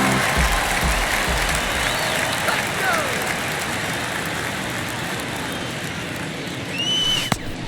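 Baseball crowd in MLB The Show 22 at a Cubs versus Rockies game, a steady roar of cheering and applause that swells at the start and again near the end with a sharp crack.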